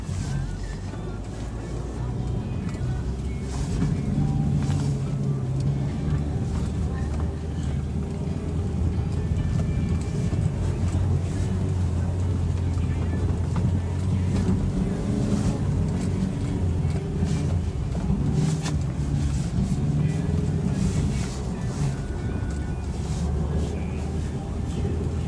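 A custom 3/4 ton Mazda Bongo 4x4 mini truck in high-range four-wheel drive pushes through snow drifts, giving a steady close engine drone with wind buffeting the microphone throughout.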